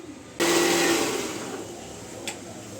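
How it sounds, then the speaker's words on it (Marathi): A kitchen mixer grinder starts abruptly and whirs loudly while grinding onion and tomato, a steady close motor drone that eases slightly toward the end, with no talk over it. "कांदा आणि टोमॅटो दोन्ही पण इथे आता मी वाटायला घेतलेले आहेत"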